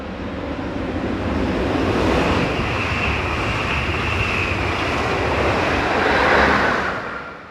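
A train pushed from the rear by a Class 460 locomotive passes close by, a loud sustained rumble and rush of wheels that builds, holds steady for several seconds and fades at the end.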